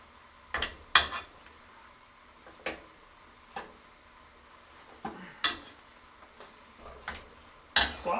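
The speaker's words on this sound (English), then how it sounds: "It's a lot harder than you'd think to mash through a bunch of potatoes like this." Hot potatoes mashed in a pot, a series of irregular knocks and clanks as the masher strikes the pot bottom and sides, moderately close with quiet pauses between strokes, no talking.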